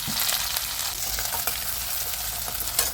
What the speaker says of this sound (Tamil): எண்ணெய் காஞ்சிருக்கு தாளிப்பு கடுகு பருப்பு போட்டு தாளிச்சிட்டு அப்புறம் கருவேப்பிலை வெங்காயம்